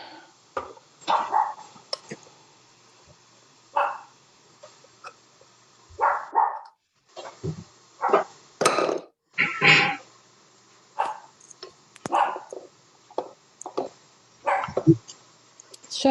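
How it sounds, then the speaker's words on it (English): A small dog barks repeatedly in short, sharp bursts close by, with brief pauses between volleys. "I'm gonna go mute because my dog's loud."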